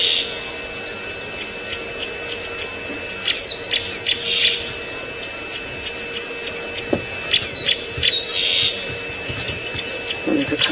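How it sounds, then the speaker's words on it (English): Small birds tweeting at sunrise on a safari drive, with repeated bright chirps and short trills in two clusters over a steady mechanical hum, moderately close, with a brief knock partway through. "there's a couple of smaller birds that are tweeting away that I have absolutely no idea what they are"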